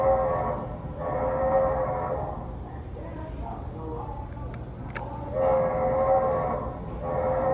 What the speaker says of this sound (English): Let's see what the whistle sounds like.